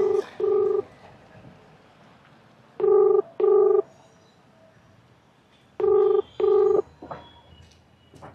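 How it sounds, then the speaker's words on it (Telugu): Telephone dialing tones for a phone call, three pairs of short keypad beeps separated by quiet gaps, clear and close, with faint background noise in between. "సో ఇప్పుడైతే అమ్మాయి ఫోన్ చేస్తా,"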